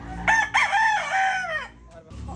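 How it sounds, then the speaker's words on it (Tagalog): A rooster crows loudly and close by in a poultry yard with incubators and day-old chicks, one long drawn-out crow followed by softer scattered clucking from chickens. "Ayos, magandang ating manok."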